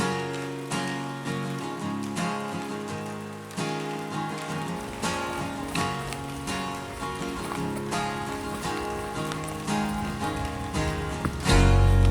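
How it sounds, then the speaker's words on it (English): Steady heavy rain pours down continuously outdoors along a lakeside trail, a dense hiss with scattered louder drops and splashes, close and unbroken throughout. "it's been raining about all day"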